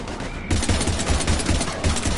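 Heavy automatic gunfire in the Mass Effect 3 video game during a combat firefight, a dense continuous rattle of rapid shots starting abruptly and staying loud and close throughout.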